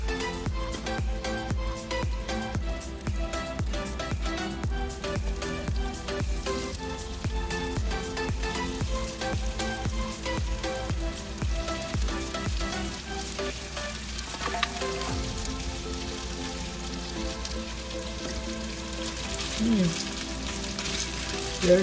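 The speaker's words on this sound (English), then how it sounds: "Now start stir frying the beef." Beef stir-fries in a pan of melted butter and oil, giving a steady close sizzle and crackle with intermittent scraping and stirring throughout, and no talking.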